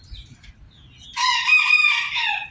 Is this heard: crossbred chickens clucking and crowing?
yes